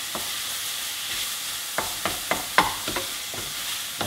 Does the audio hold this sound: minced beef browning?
yes